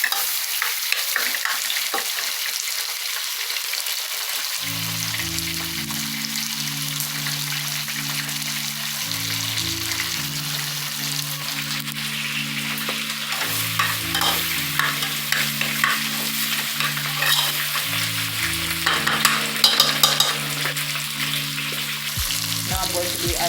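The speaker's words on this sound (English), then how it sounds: "So this now I will saute a bit." Rice with Indian curry powder sauteing in a pot, a steady soft sizzle and stir-frying hiss throughout, with a recurring low tonal hum running underneath and no talking.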